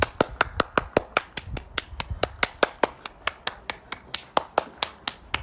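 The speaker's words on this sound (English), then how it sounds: "You can hear all our neighbours clapping, it's lovely." Neighbours clapping outdoors in a residential street for the NHS, a steady run of sharp, fairly close hand claps at a brisk even rhythm, with no talking.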